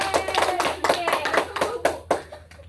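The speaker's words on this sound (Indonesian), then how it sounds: "Tepuk tangan untuk Olivia dan kita semua." A small classroom group claps for a student, a handful of distinct, loose hand claps in an irregular rhythm, close and fairly loud, thinning out toward the end.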